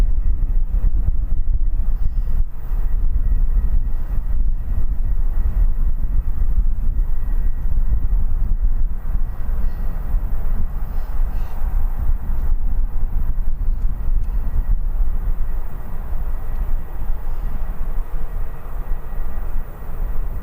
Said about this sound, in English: Ryanair coming in from something I'm not even going to, coming in from somewhere I'm not even going to attempt to try and say.